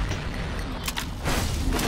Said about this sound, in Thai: ทำไมโดนระเบิดแรงจังวะ